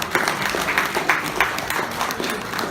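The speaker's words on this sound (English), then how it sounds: "Please give him another round of applause." Applause from an audience at an evening briefing hosted by SCCMC, steady, moderately loud clapping that runs without a break for a few seconds.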